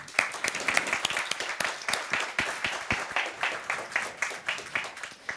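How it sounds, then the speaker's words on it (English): Audience applause at a panel event on innovation in Krakow, sustained steady clapping from many hands, moderately loud and fairly close, with no speech over it. "Round of applause."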